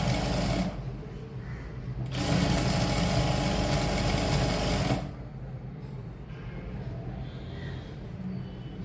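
A sewing machine stitches fabric in loud, fast mechanical runs for about five seconds, then drops to a quieter steady whir with faint clicks.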